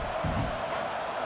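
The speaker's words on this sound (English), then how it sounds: "The roar of the crowd trying to fuel this defense to keep them pinned in their own end" A stadium crowd roars steadily in a College Football 26 game, a continuous loud wash of cheering voices filling the whole short moment.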